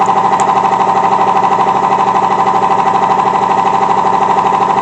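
Air compressors run in an auto repair shop, giving a loud, steady mechanical drone with a fast rhythmic pulsing throughout and no voices.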